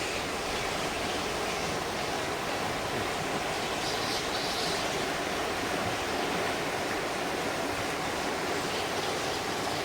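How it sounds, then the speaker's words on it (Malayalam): Steady broadband rush of a river's flowing water at Attappadi, continuous and fairly close, filling the scene with no talk. "ഞാൻ ഇരിക്കുന്നിടത്തു നിന്നുള്ള പുഴയുടെ ഒരു ഒഴുക്ക് ഇങ്ങനെ കാണിച്ചു തരാം"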